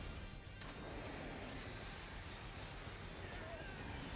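A train in a Boruto anime episode roars with a steady rumble and wheel noise, joined by a crash-like burst, heard faintly at low level, and voices occasionally come through.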